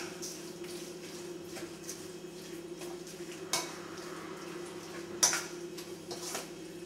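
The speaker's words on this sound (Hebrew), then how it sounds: "ואני שוב מערבב אותם עכשיו כבר עם כף" A spoon stirring a meatball mixture thickened with breadcrumbs in a bowl: soft, quiet scraping and light clinks of the spoon against the bowl, with a couple of sharper taps.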